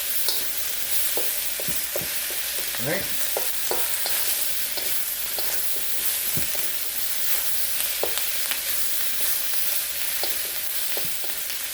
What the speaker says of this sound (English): Always stir frying it. You want to get everything to be cooked evenly.